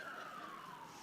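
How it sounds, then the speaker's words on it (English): A siren wails faintly from outside, its single tone sliding slowly downward, heard distant and alone with no talk. "we've got the sirens."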